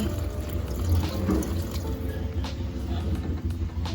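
Water runs from a tap into a cooking pot, a continuous close splashing and gurgling flow that stays even throughout.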